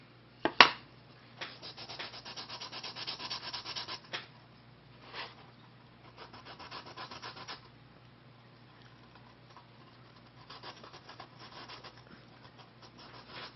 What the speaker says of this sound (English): So I fix that by sanding it down.